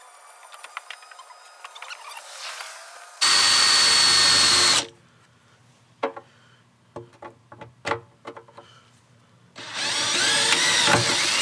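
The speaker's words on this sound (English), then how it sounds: "we can move on to actually drilling out the holes" A power drill whines loudly in two long bursts while drilling holes in cold rolled steel to install camper van seats, separated by a stretch of scattered clicks and knocks.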